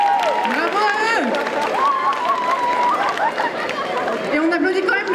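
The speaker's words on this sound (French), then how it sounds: "on applaudit quand même le petit sbire" Audience applause and cheering at a cosplay contest during a Japan manga convention in Rennes, a steady crowd roar running underneath an announcer's amplified voice throughout.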